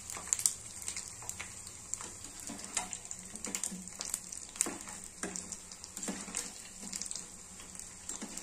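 Radish fries cook in a small pan with a little oil over low flame, giving a soft, constant bubbling sizzle dotted with frequent sharp crackles, close and fairly quiet.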